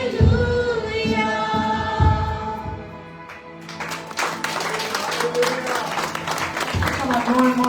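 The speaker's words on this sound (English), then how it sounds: "Come on, more and more, just clap your hands." An audience at a Sunday evening church retreat in Margao, Goa breaks into dense, sustained applause over music and speech, swelling after a brief lull to fill the rest of the clip.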